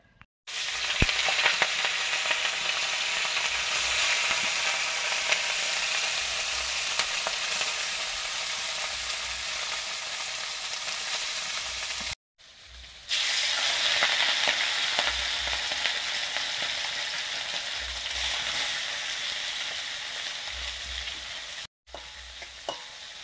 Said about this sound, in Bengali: ফার্স্ট রাউন্ড চুনো মাছ ভাজা হয়ে গেল।